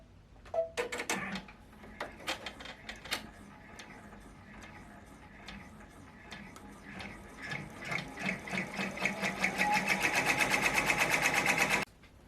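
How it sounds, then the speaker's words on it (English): A sewing machine stitches down quilt batting for a notebook cover, starting with scattered clicks and short bursts, then building into a fast, steady rhythmic run of stitches before stopping. "I'm going to go ahead and stitch that down"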